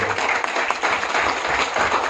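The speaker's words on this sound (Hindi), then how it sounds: "संदीप बंसल जी खातिर आप लोग जोरदार ताली बजाएंगे, हम सब लोग बजाएंगे" Applause from the audience at a grand launch ceremony for the Bhojpuri OTT platform Chaupal, a steady dense wash of clapping that sustains loudly throughout with no clear pauses.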